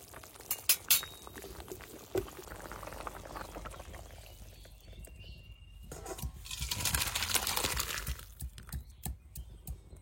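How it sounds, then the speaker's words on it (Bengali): Vegetable curry with fish bubbling in a pan on the stove, cooked with jute greens, shrimp and tender papaya, giving a steady low simmering hiss with occasional clinks and louder bursts. "তরকারি তো সুন্দর জাল হয়ে গেছে"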